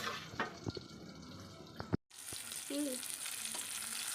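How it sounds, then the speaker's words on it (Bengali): Soft frying sizzle of eggplant close by, with a few clinks and scrapes of a utensil, briefly interrupted by a short gap partway through. "এখানে হচ্ছে বেগুন ভাজা হচ্ছে এখন"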